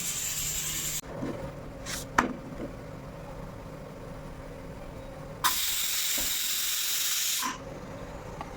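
Loud hissing bursts of escaping steam from a pressure cooker cooking chicken, one at the start and another lasting about two seconds later, with quieter clinks in between.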